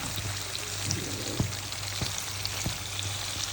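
Pieces of hilsa fish sizzle steadily in hot oil in a pan, a continuous close frying hiss with a few soft knocks as pieces are added, no voices.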